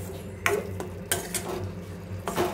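Tomato curry with chili powder being stirred and fried in a pan, with a low frying sizzle under several sharp scrapes and clinks of a spoon against the pan.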